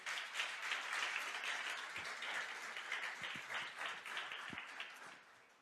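A church congregation applauds during a sermon, a dense, steady wash of many hands clapping that carries on for several seconds at a fairly distant, moderate level before tapering slightly at the end, with no voices over it.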